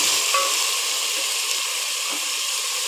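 Tomatoes sizzle in hot oil for a chicken karahi, a steady, dense crackling hiss that fills the whole stretch, close and loud, with no voices.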